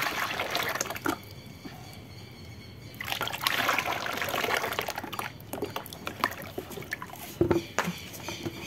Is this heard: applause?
no